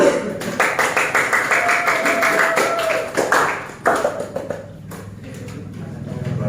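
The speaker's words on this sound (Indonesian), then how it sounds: "Tepuk tangan." A small classroom group claps after a student's presentation in a religious education class, quick uneven claps that fade out after a few seconds, followed by quiet room noise.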